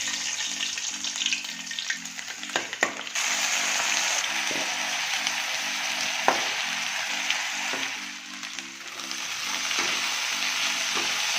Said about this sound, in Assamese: এয়া আমাৰ আলু ভাজি বনি আছে